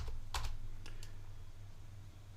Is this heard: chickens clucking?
no